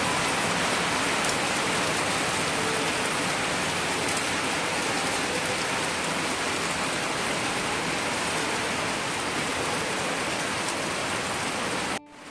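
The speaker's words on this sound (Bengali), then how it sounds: "ওইদিকে দেখো এবার জোরে বৃষ্টি হয়েছে" Heavy rain pours in a dense, unbroken hiss, loud and close, stopping abruptly at the very end.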